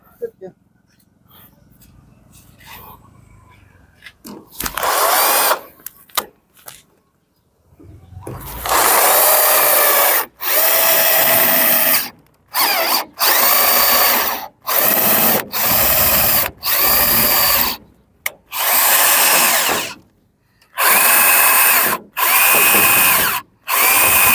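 A power drill drives screws into wood in repeated loud bursts of a few seconds each, separated by short pauses, with a person talking quietly at the start before the drilling begins.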